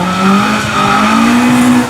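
Sports car in the up-to-1:4 class launching at the start of an autoslalom race: a loud, sustained engine roar with rising pitch and tire squeal, close by, with no voices.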